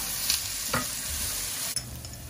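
Garlic sizzles steadily in a hot pan, a constant frying hiss with a few brief stirring scrapes and clinks, close and with no talking.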